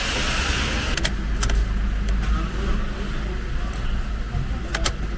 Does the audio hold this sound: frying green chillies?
no